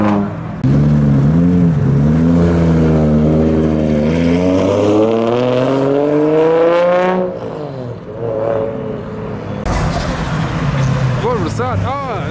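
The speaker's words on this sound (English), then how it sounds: "And now time for the JDM Astra." A JDM-styled Astra car drives off from a February car meet, its engine loud and close as it revs through several rising gear pulls before pulling away, with a crowd murmuring behind and another engine blip at the end.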